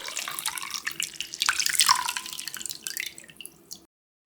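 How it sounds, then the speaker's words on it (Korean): Blanched mugwort, cooled in cold water, is squeezed by hand so water trickles and drips out in an irregular patter that swells and then fades to silence. "차갑게 식혀 색감을 살리고 물기를 꾹 한번 짜주고요"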